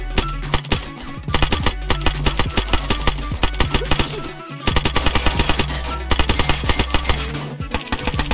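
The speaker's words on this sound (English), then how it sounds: "I'm gonna start shooting." Rapid automatic gunfire from the survival game DayZ, loud and close, with dense bursts of shots running almost continuously in two long volleys over a steady low engine-like rumble.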